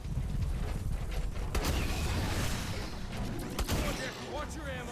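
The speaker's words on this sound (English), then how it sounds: "Oh, it's a rocket turret, so might do a bit of damage to him." Rocket turret firing in the Call of Duty Exo Zombies map Infection: a dense, steady barrage of blasts and mechanical clatter from the game, with a few sharper bangs standing out over the constant rumble of action.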